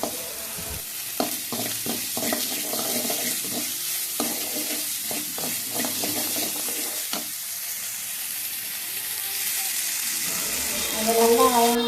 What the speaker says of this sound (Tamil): ஒரு கடாயில் எண்ணெய் ஊற்றி இஞ்சி எல்லாம் போட்டும் காஞ்சி மிளகாய் போட்டு வதக்குவேன்